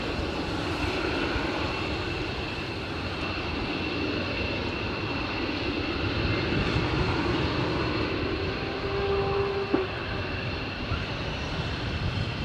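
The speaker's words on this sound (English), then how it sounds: "Portuguese F-16 flight northbound over Stoke." Portuguese Air Force F-16 fighter jets flying northbound over Stoke, a loud, steady broadband jet roar that holds at an even level for the full length without fading.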